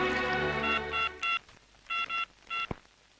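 A phone being dialed, a string of separate beeping key tones in short groups with brief pauses between them, close and clear, ending with a sharp click.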